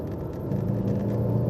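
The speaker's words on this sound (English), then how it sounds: "You can see how much quicker it is at the top end, along with that beautiful induction roar and exhaust note." Alfa Romeo GTV with a 24-valve V6 and six-speed gearbox, revving at the top end: a steady, deep induction roar and exhaust drone that builds slightly over a second and a half, with no talk over it.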